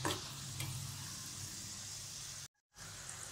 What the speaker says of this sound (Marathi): असं सगळं मी बारीक गॅसवरती तळून घेते